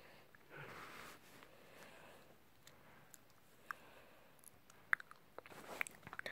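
Homemade purple banana chips being eaten up close, quiet crunchy chewing and bites with a few crisp snaps and light sniffs, no talking.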